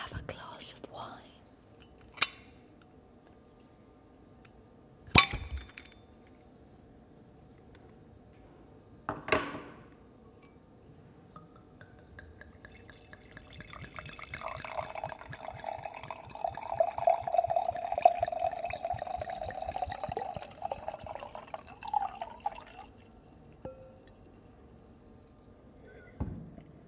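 Wine is poured into a glass in a close, intimate setting: a few sharp clinks and taps, then a steady gurgling pour lasting several seconds, with soft whispering under it.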